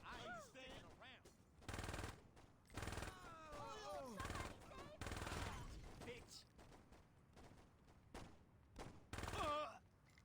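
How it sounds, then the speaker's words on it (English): Rapid submachine gun fire in Saints Row (2006) comes in repeated loud bursts, with voices talking and shouting between and over the shots. "Love this SMG so much."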